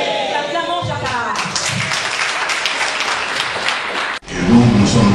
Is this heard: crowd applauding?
yes